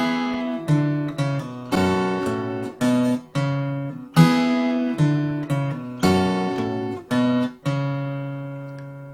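Acoustic guitar in D picking a moving bass line under strummed chords from a song intro, a steady run of plucked notes and rings played alone with no talk.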